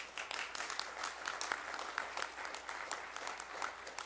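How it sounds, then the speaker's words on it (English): A room full of people applauds the ladies of the McAllister Witherspoon Women's Missionary Society at a WMS Day gathering, the clapping dense, even and moderately loud throughout with no voices over it. "Let us give them a round of applause."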